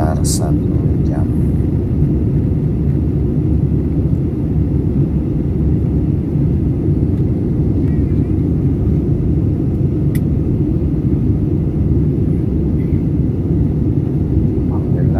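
Steady, loud low rumble of an airliner cabin in flight between Makassar and Palu, a constant engine drone with faint scattered clicks above it.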